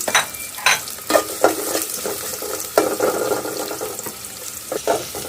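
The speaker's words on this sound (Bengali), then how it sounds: "পেঁয়াজগুলো আমি নেড়ে চেড়ে ভেজে নিচ্ছি" Chopped onions stirred and fried in a pan with prawns being cooked, a steady sizzle punctuated by sharp scraping strokes of the spoon against the pan at an irregular rhythm, close and clear.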